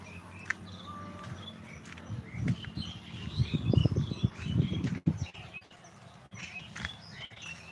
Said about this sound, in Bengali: পাখিদের কিচিরমিচির শব্দ